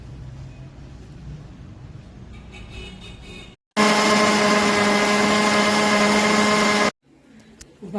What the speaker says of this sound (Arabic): وكده في الخلاط اهي.